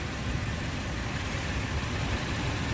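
Honda Ridgeline pickup engine humming steadily while driving, fitted with a relocated axle and extra caster, a low continuous rumble with road noise and no talking.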